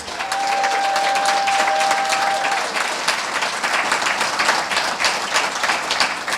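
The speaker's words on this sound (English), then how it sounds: "big round of applause for all of our winners" A crowd at a Pitch DIA startup pitch event applauds the winners, dense steady clapping filling the room at full volume throughout, with a brief tonal whistle or feedback line early on.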